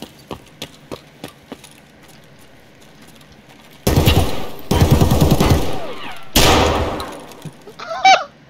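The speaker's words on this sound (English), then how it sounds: "I'm just gonna let that guy shoot a million shots." Gunfire in a video game: a few sharp isolated shots at first, then two long loud bursts of rapid automatic fire, followed by a short squawking sound at the end.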